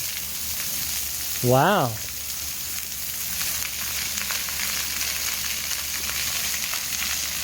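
Splash pad nozzles from a RainDeck system spray water on a random setting, a steady broadband hiss of falling spray that runs throughout, with a brief exclaimed voice near the start.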